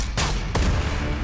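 Police gunfire from a movie trailer: two sharp, loud gunshot cracks about a third of a second apart, with a booming low rumble and echo after them.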